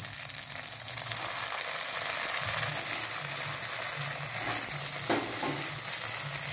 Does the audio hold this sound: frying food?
yes